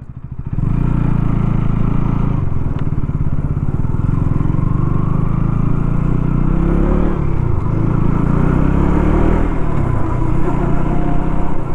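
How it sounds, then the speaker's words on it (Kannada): A 2025 KTM Duke 200 roars steadily while being ridden, its engine and exhaust holding a loud, continuous drone from the first second onward with no talking. "ಇಂಜಿನ್ನ ಸೌಂಡ್ ಈ ಥರ ಕೇಳಿಸುತ್ತೆ, ಎಕ್ಸಾಸ್ಟ್ ಸೌಂಡ್ ಈ ಥರ ಕೇಳಿಸುತ್ತೆ"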